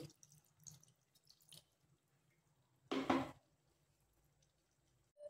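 Water is poured into a pot of prawn and potato curry, a single short splashing pour heard close and fairly loud amid quiet kitchen sounds and faint drips.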